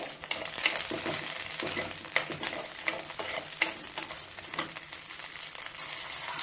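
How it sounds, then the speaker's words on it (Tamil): Onions sauté in a pan for a village-style ground-masala sambar, giving a continuous crackling sizzle with frequent scraping stirs, close and fairly loud, with no voices. "வெங்காயத்தை நல்லா வதக்கிக்கிட்டு"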